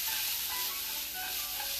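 Ginger, garlic and cauliflower sizzle in a hot frying pan, a dense, close, steady hiss of frying with faint stirring, no voices over it.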